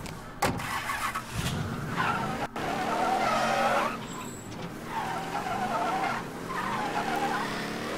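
Tyres squeal and skid repeatedly under a revving engine as a car is thrown around in Mafia 3, with long screeching slides and engine drone close and loud, broken by a couple of sharp knocks.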